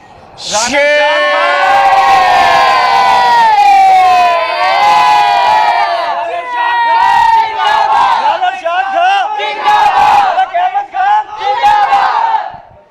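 A crowd of supporters and children at a Muslim League (N) celebration cheer and shout loudly and continuously, a dense roar of many voices rising and falling for the whole stretch.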